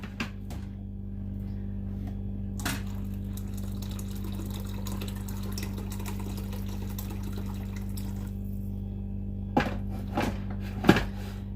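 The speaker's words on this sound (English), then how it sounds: "then I'm going to put in 2 cups of water" Two cups of water pour steadily into a pan of Swedish meatball sauce with vegetable stock, making a continuous close, even stream, with a few brief thunks and clinks along the way and no talking.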